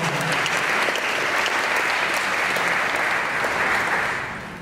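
Dense, sustained applause from a large conference audience at an opening plenary session, loud and even throughout before tapering off at the end.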